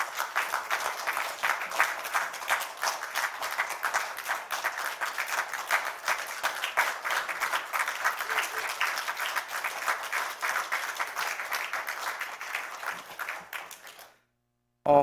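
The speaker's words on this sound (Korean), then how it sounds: "박수를 힘있게 쳐주십시오" A Korean church congregation applauds a member at a Sunday service with long, hearty clapping, a dense crackle of many hands sustained for about fourteen seconds before cutting off abruptly.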